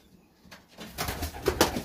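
Soft, close pigeon-like cooing from a single bird, a few low throaty notes after a brief quiet start, with faint rustling.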